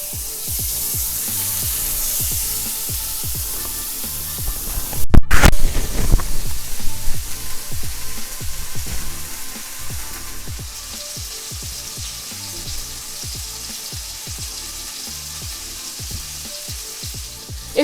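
Steak hitting a hot cast iron skillet with garlic-herb compound butter, a sudden loud burst of sizzle and spatter that stays strong for several seconds and then settles into a steady, softer crackling fry.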